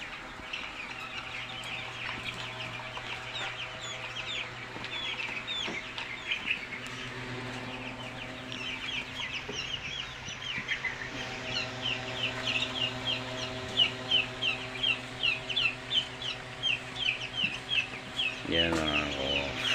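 Forty-five-day-old broiler chickens cluck and chirp in a busy flock, a soft, steady chorus that grows denser toward the end, with a faint low hum and brief voices nearby.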